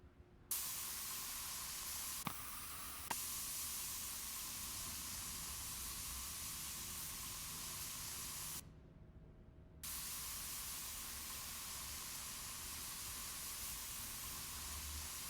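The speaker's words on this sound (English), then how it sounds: "This spray painter seems to be breathing quite heavily" A spray painter in the Spray Paint Simulator game gives off a long, steady broadband hiss that holds at an even level, broken only by a brief gap before it resumes.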